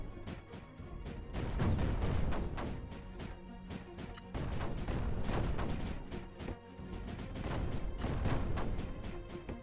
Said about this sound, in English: Pop some mortars up and around here.